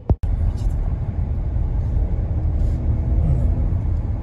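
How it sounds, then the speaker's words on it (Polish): A Maserati Grecale GT with a two-litre engine drives along, its steady low rumble and road noise holding constant throughout after a brief thump at the start. "Teraz sprawdzimy, jak to sobie hula z tym dwulitrowym silnikiem."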